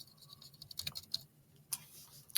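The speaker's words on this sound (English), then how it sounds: "my typing is pretty funny" Typing on a computer keyboard while filling in an annotated bibliography template: quiet, close, irregular key clicks arrive in short bursts with pauses between them.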